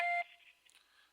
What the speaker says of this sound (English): Begin speaking immediately after the beep.